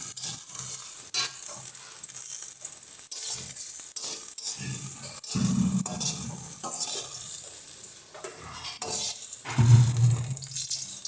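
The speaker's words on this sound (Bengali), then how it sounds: "দেখো বেগুনটা কিন্তু ভাজতে ভাজতে আমাদের নরম হয়ে গেছে, বেশ লাল লাল হয়ে এসছে।" Softened eggplant frying in oil in a pan, a quiet sizzle with intermittent stirring and scraping clatter, a couple of louder knocks of utensil on pan, no voices.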